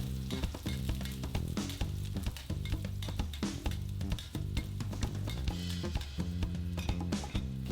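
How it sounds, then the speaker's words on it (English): Ginger stir-frying in oil in a wok over medium heat, a continuous sizzle and crackle with rhythmic scraping stirs throughout, close and fairly loud, with no voices. "In a wok on medium heat, add oil and stir fry the ginger."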